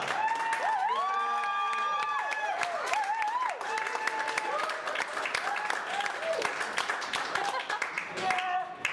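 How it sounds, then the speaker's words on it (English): Applause for an author at a health book presentation, a steady wash of audience clapping running under a clear voice speaking over it throughout. "So please join me with a huge round of applause to our author."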